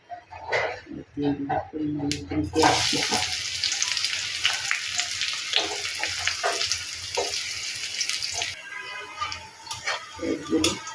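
Eggplant fries in hot oil with tempering spices, a sizzle that swells up after a few quiet clinks and stays steady, with light stirring and scraping throughout.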